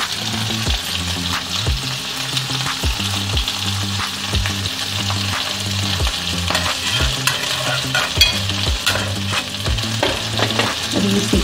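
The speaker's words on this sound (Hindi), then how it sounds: "हमें हमारी भिंडी जो है फ्राई हो रही है, बहुत ज़्यादा इसको नहीं हम भूनेंगे" Okra (bhindi) frying on a tava over medium-low heat, a continuous close sizzle with repeated soft stirring and scraping strokes, steady throughout with tonal music underneath and no talk.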